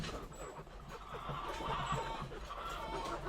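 Chickens on a mini farm, several birds clucking and murmuring continuously at close range over a steady outdoor background, with a faint high chirp now and then.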